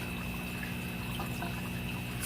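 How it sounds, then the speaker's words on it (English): Water bubbles and churns steadily in a fish tank fed by a Venturi aerator in a hydroponics and aquaponics setup, a continuous close wash of gurgling with a faint pump hum underneath. "That's the bubbles right there from the Venturi."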